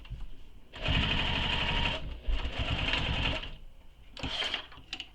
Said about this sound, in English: So using your favorite stitch length for top stitching, top stitch all the way across.